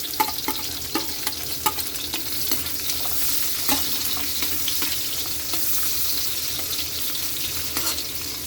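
Garlic and onion sautéing in a pan with ginger already cooking, a steady bright sizzle with regular scraping and clicking from stirring, close up and fairly loud, no voices.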